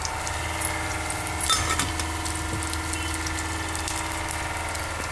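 Mustard seeds frying in hot oil, a steady close sizzle that holds evenly throughout with a faint rattle and a brief clink partway through.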